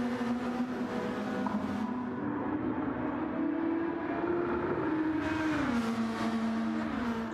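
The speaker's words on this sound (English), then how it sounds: "These cars just sound insane." Race car engines from Gran Turismo 7 at Monza, a loud sustained drone that rises and falls in pitch as the cars accelerate and shift, continuous and close with no voices.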